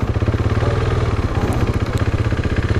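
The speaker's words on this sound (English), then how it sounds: "RC390 sounds amazing" A modded KTM RC390 single-cylinder motorcycle runs up close, its loud engine throbbing in an even, pulsing rhythm with a rattly mechanical edge and no voices.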